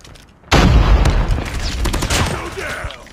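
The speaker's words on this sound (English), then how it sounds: "Somebody's shooting at me." Loud burst of gunfire in Call of Duty Mobile, an abrupt barrage of rapid shots starting after a brief lull and continuing with rattling echoes, close and dense.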